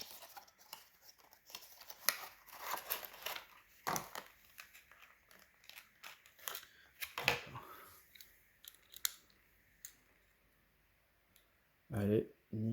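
A brand-new item sealed in blister packaging, bought secondhand at a car-boot sale, is torn open with sharp crackling plastic crinkles and clicks in bursts, then a quiet pause before a loud final snap, with someone talking throughout.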